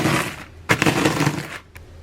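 Cheetos crushed inside a bag by pressing down with a cup, giving a dense burst of crackling and crunching that starts sharply and runs for about a second, followed by a short final crunch.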